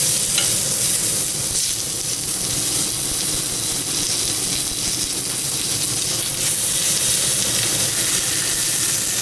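Pork tenderloin sears in a pan over high heat with a little fat, giving a loud, steady sizzle and hiss that runs throughout without pause.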